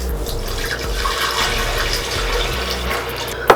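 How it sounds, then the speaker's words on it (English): Four cups of filtered water pour steadily into a high-speed blender jar for homemade almond milk, a continuous close splashing rush ending with a brief sharper clunk. "you are going to pour your 4 cups of filtered water into your high-speed"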